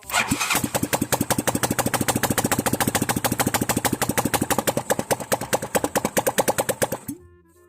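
A rebuilt motorcycle engine with a big-bore upgrade fires up and runs with a loud, rapid, evenly pulsing putter close by for several seconds before abruptly cutting off into quiet.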